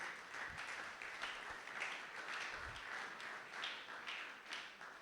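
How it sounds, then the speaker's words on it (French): A church congregation claps through a Sunday praise and thanksgiving service, a dense, continuous wash of many hands at a moderate distance, with no voices over it. "Acclamons pour la gloire de Jésus."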